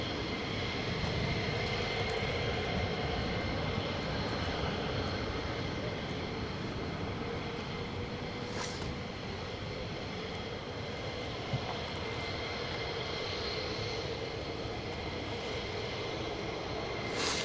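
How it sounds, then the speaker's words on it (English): An F-15 fighter jet takes off on afterburner at RAF Lakenheath, a sustained distant roar and rumble lasting throughout, with voices talking faintly underneath. "the F-15, has to take off on Afterburner to be sure not to use more runway than available"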